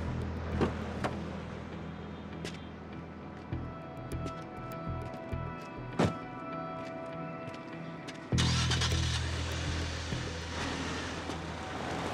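A motor vehicle engine starts up and settles into a loud, steady running hum after scattered clanks and knocks.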